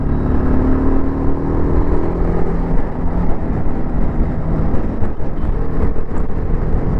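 A 2025 TVS Apache RR310 motorcycle cruising in fifth gear near Yelahanka, its engine droning steadily and close under heavy wind rush, with no talking.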